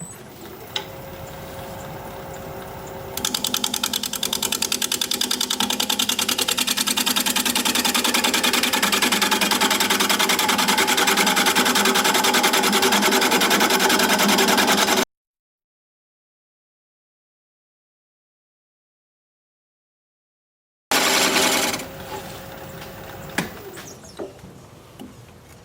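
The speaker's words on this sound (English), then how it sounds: "we're still turning at 600 RPM with the square point" A wood lathe spins a small bowl at 600 RPM while a square-point carbide tool flattens its bottom, giving a steady whirring hum with a scraping hiss that runs continuously, breaks off into silence, then briefly resumes.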